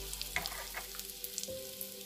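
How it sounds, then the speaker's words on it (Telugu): Chana dal and dried red chillies frying in hot oil, a quiet, close, continuous sizzle with soft crackles and stirring scrapes. "శనగపప్పు కొంచెంగా వేగిన తర్వాత ఎండుమిర్చి కూడా యాడ్ చేసుకొని వేయించుకోవాలి"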